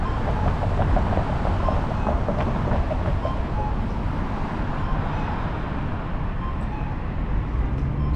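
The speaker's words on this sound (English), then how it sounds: "So it looks like there's a train coming" A train rolls through downtown Calgary beside a city street, a steady close rumble with faint rail clatter and traffic noise filling the whole stretch.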